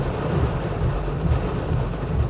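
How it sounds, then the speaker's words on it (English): Heavy rain drums steadily during a long drive while a low rumble of thunder rolls underneath, a dense continuous wash with no speech. "we had multiple stretches of heavy rain"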